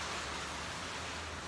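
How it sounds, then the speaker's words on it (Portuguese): Normal rain falling just after a hailstorm, a steady soft wash of drops on surfaces, faint and continuous with no voices. "tá chovendo normal agora"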